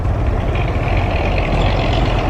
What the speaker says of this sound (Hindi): एक ट्रक ये सामने जा रहा है, देखिए सामने दरख्तों से टकराता हुआ जा रहा है।